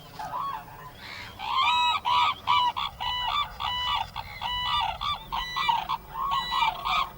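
Cranes call in a long run of loud, rhythmic honking bugles, repeated nasal notes overlapping in a close, continuous chorus with brief gaps between bursts.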